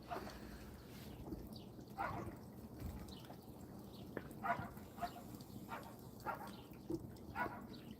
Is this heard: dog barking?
yes